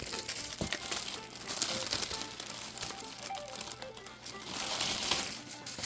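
Sheets of packing paper are crumpled and crinkled to wrap glasses, a continuous loud rustling and crackling that fills the whole stretch with no talking.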